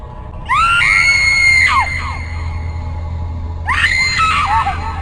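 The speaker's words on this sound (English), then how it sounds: "Chick on the floor, screaming, swatting at imaginary bugs on her skin." A woman in a video game, Ripper, screams on the floor in two long, loud, wavering shrieks separated by a pause, over a low steady hum.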